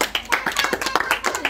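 Children clap together in a quick, lively burst of hand claps in a home quiz game, the dense, fairly close applause running unbroken for a moment with no talking over it.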